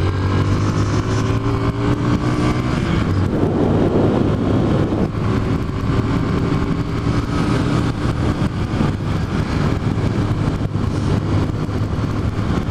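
A motorcycle engine drones loudly and continuously nearby, revving up and holding a steady roar.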